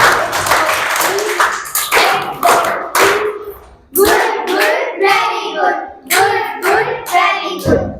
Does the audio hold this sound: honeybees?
no